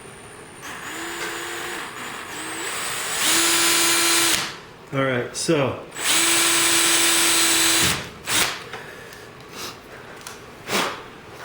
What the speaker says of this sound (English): just drill it down in there far enough